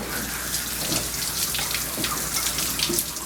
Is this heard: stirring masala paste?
no